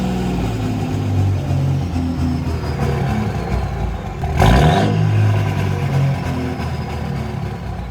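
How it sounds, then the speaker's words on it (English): A Cummins 5.9 diesel with a hard-start problem idles with a steady rumble, then gets one sharp throttle blip that swells loud for about a second before settling back to the idle. "That is me spiking the gas, just giving it a quick throttle, whoop, coming off it immediately."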